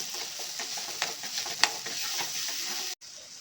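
Ground black chickpea and tomato paste frying in spiced masala gives a steady close sizzle with occasional stirring taps and scrapes, then cuts off abruptly near the end.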